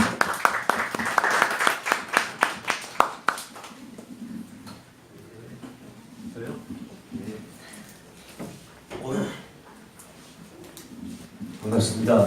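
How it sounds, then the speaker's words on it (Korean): An audience at a lecture claps in welcome for a speaker, a burst of loud, fast hand claps for about three seconds that fades into scattered claps and quiet room noise with some talking. "큰 박수로 맞이해주세요"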